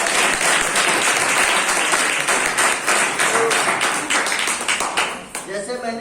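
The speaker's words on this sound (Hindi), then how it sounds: "तो इनके लिए शानदार ताली नीचे" Loud, dense audience applause fills a motivational team program, sustained clapping that tapers off near the end as a voice begins.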